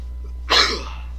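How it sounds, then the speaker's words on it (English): A character sneezes in the video game Ark Survival Evolved, a single sharp burst that tails off quickly over a constant low background hum, close and alone. "Oh man, get ready to sneeze."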